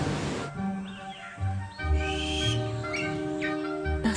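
Wild endemic Australian birds call in short chirps and whistled phrases over a steady tonal background, moderately loud and fairly close.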